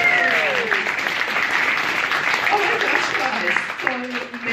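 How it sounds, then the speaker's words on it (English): Audience at a comedy club gives a round of applause, a broad steady clapping that carries through with a few voices and cheers rising in the mix before it tapers slightly at the end. "I just want a round of applause from everybody in the audience who's straight"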